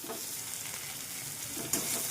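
Spice mixture frying in a pan for aloo patties made with wheat flour, a steady close sizzle with stirring scrapes throughout and a brief louder crackle near the end, with no talking.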